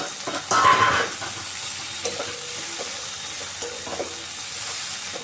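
Okra (bhindi) fries in a pan over a low flame, with a steady close sizzle, a brief burst of stirring and scraping near the start, and faint utensil taps afterward. No one speaks.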